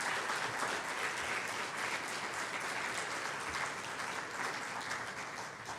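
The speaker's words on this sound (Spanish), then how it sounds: "Denle una ofrenda de palmas a nuestro Señor Jesucristo." A church congregation claps steadily for several seconds, the applause a dense, even wash of hand claps filling the hall at a moderate level.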